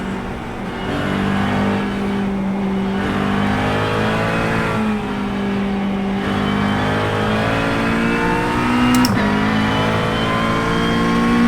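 Race car engine in the iRacing simulator drones loudly and close, its pitch rising and falling steadily through corners with a short sharp click near the end.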